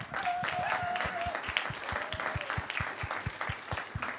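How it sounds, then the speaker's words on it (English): Audience applause for faculty gathered on stage at an artificial intelligence and ethics conference, a steady wash of many hands clapping at moderate level, with a few faint tonal whistles or cheers rising above it. "Let's give them a big applause."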